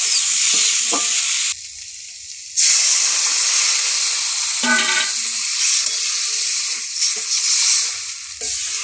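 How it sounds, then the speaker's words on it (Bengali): Garlic and potatoes sizzle steadily in a frying pan for a curry with aubergine, tomato and fish. The hiss is loud and continuous, cut off briefly when the pan is covered, with occasional stirring clinks. No speech. "ছোটো করে রাখা রসুনগুলো দেবো লাল লাল হয়ে গেছে আলুগুলো এর ওপর দেবো"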